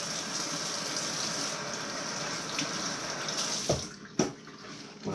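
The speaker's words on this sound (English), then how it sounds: "as I wash my hands" Water runs steadily from a tap as hands are washed clean of pork grease after grilling ribs, a constant close splashing hiss with a couple of sharper knocks and clatters near the end.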